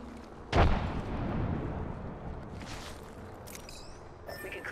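A frag grenade detonates in the Apex Legends battle royale game, one sharp loud blast followed by a rumbling tail, then quieter game effects and brief chimes.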